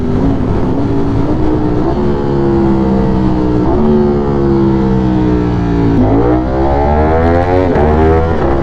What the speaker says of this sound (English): Now for the downshifts.